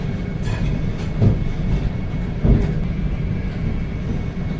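A Vande Bharat Express train leaving Howrah station rumbles along at low pitch with steady rolling noise and a couple of heavier thumps from the wheels, close and continuous.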